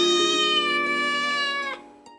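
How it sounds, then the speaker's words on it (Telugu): A cat in an old house gives one drawn-out, clear meow lasting well over a second, close and fairly loud, then fades to near silence. "అదే ఇంట్లో ఓ పిల్లి కూడా ఉండేది."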